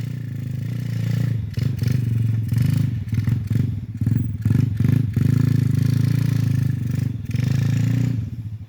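Honda XRM 125 motorcycle engine labouring on a mountain trail, a steady loud close drone broken by uneven rattles and clatter as the bike bumps over rough ground.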